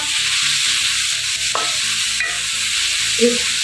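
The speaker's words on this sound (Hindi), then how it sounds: "1 से 2 मिनट इसको फ्राई करने के कीमे को।" Minced beef keema frying in a pan, with a steady close sizzle under rhythmic scraping strokes of a spoon stirring the meat, and no voices.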